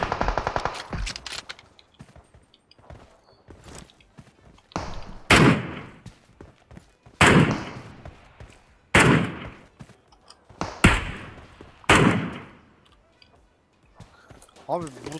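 Repeated bursts of gunfire from the battle-royale game PUBG Mobile, loud sharp volleys spaced a second or two apart, with someone talking between and under the shots.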